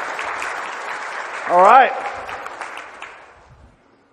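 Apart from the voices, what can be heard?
applause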